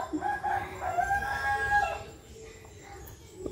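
A rooster crows in the distance in a village with jungle behind, a long drawn-out call over the first two seconds, then quieter outdoor ambience.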